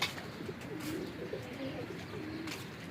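A female pigeon gives a soft, low warbling coo under steady outdoor background noise, with short faint chirps nearby.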